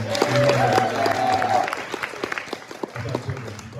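An audience at a stand-up comedy show at the Flagstaff Foundry gives a round of applause that swells and then thins to scattered claps, while a voice is heard over the start.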